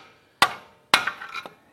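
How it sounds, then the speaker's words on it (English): A hammer strikes a pry bar twice to pop a CV axle's retainer clip out of the intermediate shaft bracket. The two sharp, close metallic hits land about half a second apart, and the second rings a little longer. "I'm just going to hit the pry bar with a hammer"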